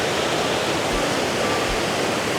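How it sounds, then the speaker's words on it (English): The French Broad River rushes steadily beside a trail near Hot Springs, North Carolina, a loud, even wash of whitewater with no talk. "A rushing French Broad River is what that is again."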